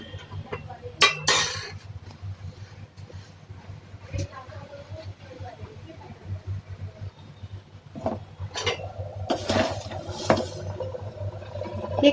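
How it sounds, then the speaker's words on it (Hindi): A small ladle spoons sugar into a pot of cooked porridge (daliya) and stirs it, giving scattered metallic clinks and scrapes close by, with a steady low hum from the gas stove underneath. "एक छोटी कड़छी है, ये मैं शुगर डाल रही हूँ इसके अंदर। शुगर डाल के हिला देते हैं।"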